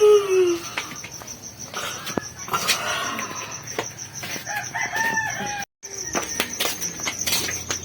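A rooster crows at the start and again later, with clucking fowl and a constant high cricket chorus in the background; people talk intermittently.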